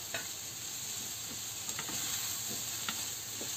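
Boiled chicken stir-fries with colourful vegetables in a hot pan, with a constant crackling sizzle and soft, regular scrapes of a spatula.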